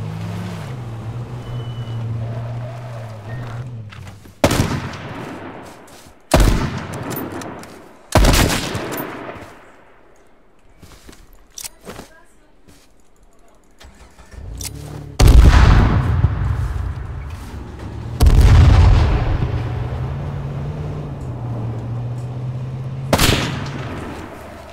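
Gunfire in the battle-royale game H1Z1 King of the Kill: several sharp, loud shots spaced irregularly over the stretch, sniper cracks with lingering tails, over a low engine-like drone in the background.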